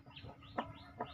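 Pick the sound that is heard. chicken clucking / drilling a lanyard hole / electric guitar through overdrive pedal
chicken clucking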